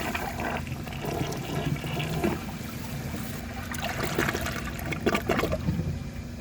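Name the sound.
2003 Kohler Serif toilet flushing a washcloth test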